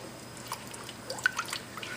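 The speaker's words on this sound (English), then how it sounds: "go ahead and add my coconut milk in there." Coconut milk pours into a cooking pot, giving soft, scattered drips and small liquid splashes, faint and close, with no voices.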